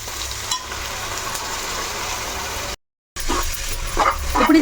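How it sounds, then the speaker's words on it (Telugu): Mint paste sizzling in hot oil in a pan for paneer pulao, a steady close frying hiss. It cuts out briefly, then returns with clinks of stirring and a couple of sharp yaps, like a dog barking nearby. "ఇప్పుడు ఇది బాగా వేగాలమ్మా. మనకి ఆయిల్ అన్నది బయటకు వచ్చేంత వరకు మంచిగా వేపుకోవాలి."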